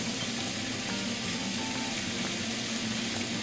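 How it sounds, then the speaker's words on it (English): Meat searing on an induction burner at medium heat for a stew, a steady close crackling sizzle with faint broadband hiss holding evenly throughout, no voices. "You hear the sizzle, it's like medium heat."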